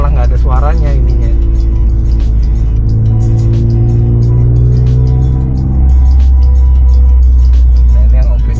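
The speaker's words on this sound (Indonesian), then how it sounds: "suaranya kebetulan knalpotnya udah diganti remus" A Toyota GR Yaris fitted with an aftermarket Remus exhaust drones loud and close from inside the car, a low steady engine hum that shifts pitch midway, with people talking over it.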